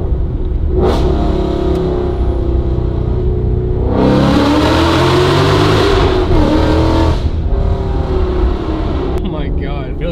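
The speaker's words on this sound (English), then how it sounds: "This car is too loud" A loud car engine revs hard, its roar swelling and echoing as if inside a tunnel, with a deep rumble running throughout.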